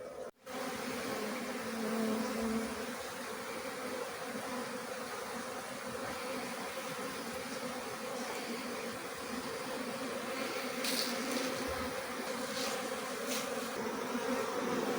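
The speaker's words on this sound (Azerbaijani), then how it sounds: "Arılarımız çalışır, yalandan get-gəl eləmirlər, çalışırlar." A dense, steady buzz from many honey bees working around their hives fills the whole stretch, loud and continuous with no voices.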